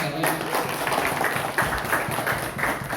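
Applause at a community legal-aid gathering in Sepang, Serang, Banten: a crowd clapping steadily with scattered sharper claps, fairly close and sustained throughout, a voice speaking faintly beneath.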